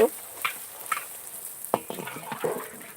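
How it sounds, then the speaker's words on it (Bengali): Fuchka puffing in oil on a village clay stove gives a steady soft sizzle, with occasional stirring clinks and scrapes, and quiet talk in the background. "ফুচকাটা কেমন ভাজা হচ্ছে"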